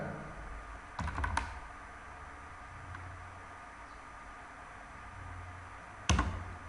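Brief bursts of typing on a computer keyboard during a Python programming lesson, two short clusters of key clicks separated by a quiet stretch, faint and close.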